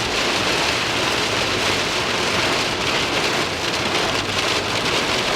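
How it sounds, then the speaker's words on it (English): Heavy rain pours down hard during a windy Michigan storm on a hunting trip, a dense, loud, unbroken hiss of drops hammering surfaces with gusty swells. "I can't think of too many times it's rained that hard in Michigan."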